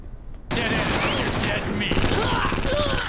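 Enemy gunfire in the Red Steel video game, a dense, continuous fusillade of overlapping shots that starts abruptly and stays loud throughout, with a voice talking faintly underneath.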